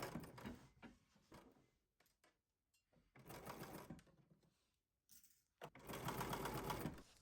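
Sewing machine stitching basting seams on armholes and lower edges of a McCall's M8551 garment, running in three separate bursts with short pauses between, moderately loud and steady with a mechanical whir.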